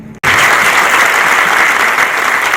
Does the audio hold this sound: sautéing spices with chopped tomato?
no